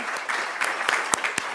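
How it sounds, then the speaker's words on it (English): A crowd applauds an award winner at a students' union excellence awards ceremony. The brief burst of clapping has a few sharper individual claps standing out. "Please give her a round of applause."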